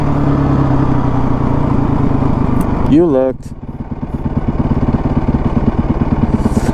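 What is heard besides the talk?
motorcycle engine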